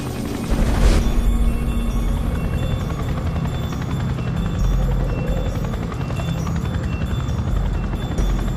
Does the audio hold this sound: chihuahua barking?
no